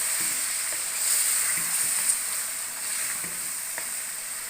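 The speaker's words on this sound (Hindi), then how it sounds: "टमाटर की भी अच्छी तरह भुनाई करनी है आपने" Tomatoes roasting in hot oil for beef karahi, a steady moderate sizzle and hiss with faint stirring sounds, continuous and close.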